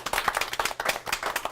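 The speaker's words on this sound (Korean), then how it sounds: "오늘 수고해주신 두 분의 MC님 이렇게 박수 부탁드리겠습니다" An audience claps for two MCs at the close of a live talk show event, a brisk burst of many hands applauding together, close and lively, with no talking over it.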